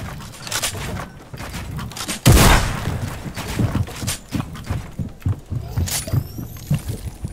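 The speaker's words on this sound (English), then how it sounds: "He's got a heavy sniper." Gunfire from a heavy sniper rifle in a mech video game cracks out as one loud, sharp shot, with scattered quieter thumps and impacts around it.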